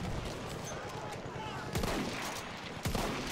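Gunfire in the Battlefield 1 video game, Monte Grappa conquest match: two sharp shots ring out over a steady roar of battle noise, with distant combat rumbling throughout.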